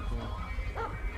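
A police dog barks once at close range during an arrest of a handcuffed man, a single sharp loud bark over a low rumbling background.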